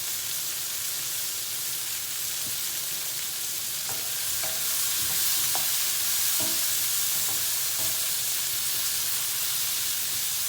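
Broccoli and the last of the vegetables sizzle in a pan for a butternut squash gnocchi primavera, making a constant hiss with a few light clinks of a utensil stirring, with no voices.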